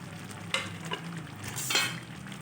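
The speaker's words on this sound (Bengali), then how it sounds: "এবার আমি এতে অ্যাড করে দিচ্ছি ভেজে রাখা এগ।" Fried eggs tipped into a pan of sizzling spice masala for a white egg curry give a steady close sizzle, with a couple of brief stirring scrapes and bursts of frying.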